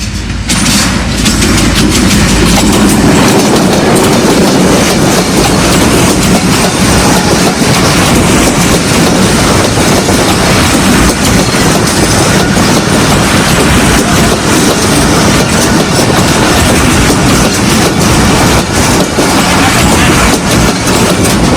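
A train crosses a historic bridge at Jhallar station in Pakistan, its steady rumble and clickety-clack of wheels on rails loud and continuous throughout, with the engine drone underneath.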